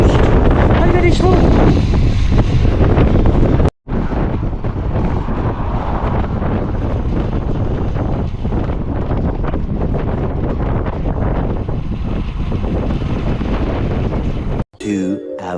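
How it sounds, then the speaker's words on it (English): A strong headwind buffets the microphone while bikepacking on an exposed road in the Outer Hebrides, a loud continuous roaring rush with brief dropouts. "We are now in the headwind section. It's very windy, very miserable, very exposed, and very slow."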